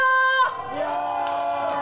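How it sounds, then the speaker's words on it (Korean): A concert crowd at an outdoor beer festival in Eumseong, Korea, cheers and shouts in a steady, fairly subdued roar that swells in just after a sustained musical tone cuts off. "함성 질러."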